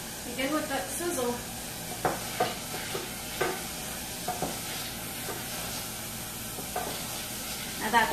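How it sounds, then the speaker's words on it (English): Minced garlic sizzles in a hot pan for burritos, a steady frying hiss with soft stirring scrapes and a few clinks, close and moderately loud, with no talking. "Begin with that sizzle."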